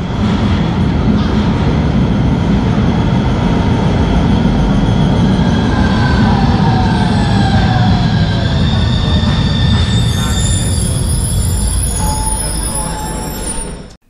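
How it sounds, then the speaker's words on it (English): A third-generation public transit train in Genoa rumbles loudly and continuously, wheels squealing and whining at times as it runs along the track, heard close from on board. "Again with the train of the 3rd generation"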